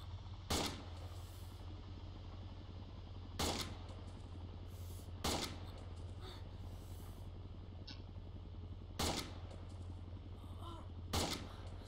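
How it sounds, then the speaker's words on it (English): Gunfire in a video game aimed at an enemy helicopter: five sharp, loud single shots at irregular intervals over a steady low engine drone. "I'm shooting at their heli."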